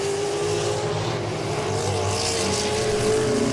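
Modified race cars at Langley Speedway roar steadily around the oval in close side-by-side racing, a loud continuous engine drone with no voices.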